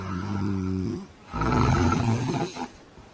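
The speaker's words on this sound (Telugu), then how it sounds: "అది గొరకండి" Loud human snoring played back, a deep rumbling breath-drone that sounds almost like an animal roar, in two long bursts separated by a short pause.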